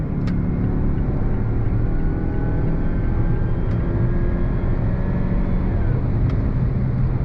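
A 2022 Mazda CX-9 midsize SUV with all-wheel drive and a six-speed automatic accelerating on throttle, giving a loud, steady engine and road drone heard from inside the cabin, continuous throughout.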